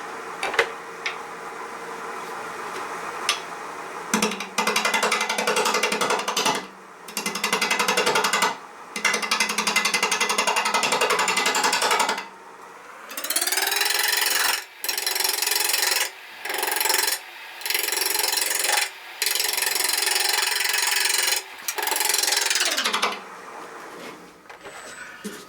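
Wood turning on a lathe, a small piece of wood clamped in for a turning demonstration, the tool biting in repeated passes of steady rasping, scraping cut that start and stop with brief pauses between, close and fairly loud with no talk.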